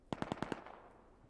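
Gunshots in the video game Rust: a rapid burst of five sharp shots in quick, even succession, fairly faint, followed by a short decaying tail.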